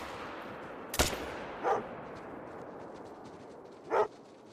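A .223 rifle fires at Cape Buffalo in a hunting video game: one sharp loud shot followed by two fainter, softer bursts spaced a few seconds apart over a quiet background.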